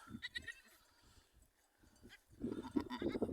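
Newborn goats bleat in short, thin cries, a few scattered calls early, then a busier cluster of overlapping bleats near the end, fairly quiet and close.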